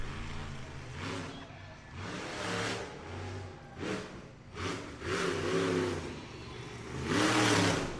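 A monster truck driving hard deep into a corner at a Monster Jam event in Miami, Oklahoma, its engine roaring in repeated loud revving surges and drops, close and dominant.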